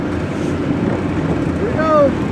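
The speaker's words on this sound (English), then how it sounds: "My motor's holding up." A steady outboard boat motor drones through the whole stretch, with wind buffeting the microphone and a voice briefly talking over it.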